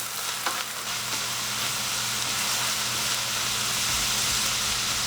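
A mixture of soy sauce, vinegar, sesame oil and stevia bubbling in a hot pan: a dense, continuous loud sizzle with a few stirring scrapes near the start, close and without speech.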